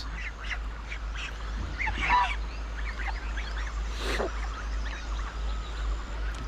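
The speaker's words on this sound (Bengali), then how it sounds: "এখানে দেখো অনেক হাঁস আছে, এদিকে চারিদিকে ওদের সব পোষা হাঁস" Domestic ducks quack and honk intermittently at a moderate distance at a lodge in Rishikhola, over a steady low hum, with no one speaking.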